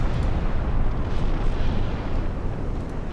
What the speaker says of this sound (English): Battleship secondaries are slaughtering this DD.